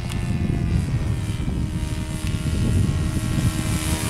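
A model de Havilland 82A Tiger Moth with an OS FS 40 four-stroke engine drones steadily in flight, a continuous buzzing engine note at moderate distance with wind-like rumble underneath and no talk.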